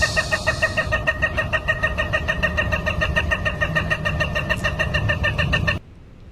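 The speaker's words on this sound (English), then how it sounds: "Did you have to announce yourself as being here with the rooster?" A rooster crows loudly and repeatedly as a stream alert during a Microsoft Flight Simulator 2024 session, a close, harsh rhythmic call lasting several seconds before cutting off abruptly.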